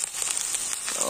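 Garlic and ginger paste, ground separately, sizzling in hot oil for an Echor Chingri curry; a brief, close, bright crackling fry with soft popping and stirring.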